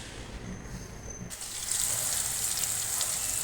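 Potatoes with a few small tomato pieces fry in a kadai, and a steady broadband sizzle rises after about a second and holds near and fairly loud, with no speech.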